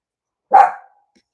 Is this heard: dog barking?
yes